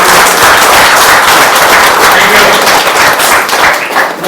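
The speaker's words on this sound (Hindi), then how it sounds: "एक बार जोरदार तालियां सर के लिए।" Loud, dense audience applause fills a crypto seminar hall, a steady wash of many hands clapping close by for the presenter, tapering slightly near the end.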